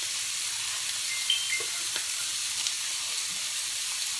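Blackened salmon pan-frying over turned-down heat gives a steady, close sizzle with faint crackles and small spits throughout, no voices present.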